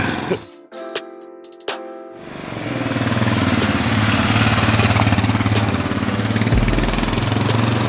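A motorcycle just fitted with a universal clutch kit is started and settles into a steady loud idle, a continuous throbbing engine drone close by after a few sharp clicks and knocks at the start.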